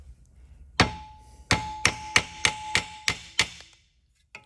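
A hammer strikes sheet metal while driving out a rivet on a VZ-61 upper, giving eight sharp, ringing metallic blows at a steady pace, close and loud, with a faint final tap.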